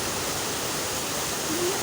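River water rushes steadily at a swimming spot, a dense, loud, continuous wash of flowing water heard close up with no voices over it.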